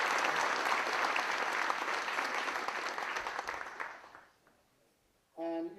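An audience at a Cruyff Football seminar in Oslo gives a full, sustained round of applause that tapers off and fades to near silence, followed by a brief voice at the end.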